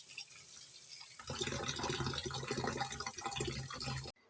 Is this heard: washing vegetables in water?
yes